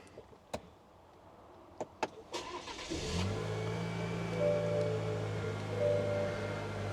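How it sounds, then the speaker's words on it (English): A Chevy Colorado pickup starts up: a few sharp clicks and clunks come first, then the engine catches around three seconds in and settles into a steady, close idle hum. "Start the truck up."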